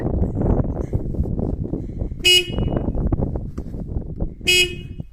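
Car horn honking loudly: two short, sharp blasts a couple of seconds apart, close and piercing over outdoor street noise and wind rumble.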